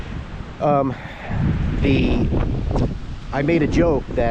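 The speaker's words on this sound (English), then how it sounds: "sorry for the wind, it's really windy today" Gusty wind buffets the microphone with a low rumble as someone talks over it.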